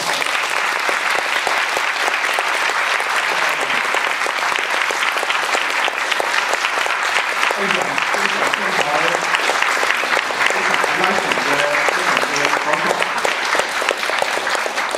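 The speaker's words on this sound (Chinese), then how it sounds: "大家给你掌声掌声" Sustained applause from a lecture audience fills the hall, dense and steady clapping throughout, with murmuring voices and talk rising faintly beneath it in the second half.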